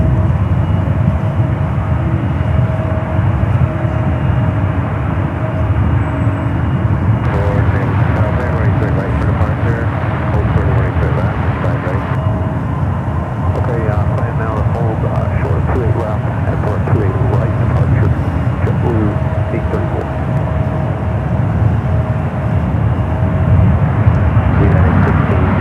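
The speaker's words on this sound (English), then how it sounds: "Takeoff." A passenger airplane takes off at San Francisco International Airport (SFO), its engines a loud, steady roar lasting throughout, with faint background voices underneath.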